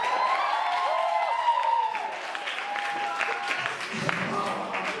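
Audience applause at a stand-up comedy night, a steady wash of clapping that fades slightly after a couple of seconds, with a voice speaking over it.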